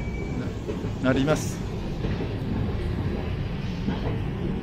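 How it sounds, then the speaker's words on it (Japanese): A Hankyu Senri Line train rumbles across the Yodo River railway bridge with a steady, loud continuous roar, while someone talks over it. "今淀川にかかる橋梁を電車が渡っております"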